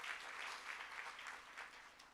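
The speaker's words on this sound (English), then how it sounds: "let's give a round of applause for that as a challenge" A seated audience at a smart province launch applauds the Premier of KwaZulu-Natal, giving a soft, distant, continuous patter of many hands clapping at an even level throughout.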